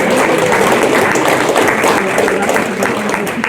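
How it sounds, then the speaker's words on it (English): A crowd of older adults claps together in a sustained, dense round of applause for the speakers at a scams, fraud and safety event in a senior center hall in McDowell County, North Carolina; the clapping is steady and fairly loud throughout. "I'm going to ask one more round of applause for Ricky and Paul and John being here today"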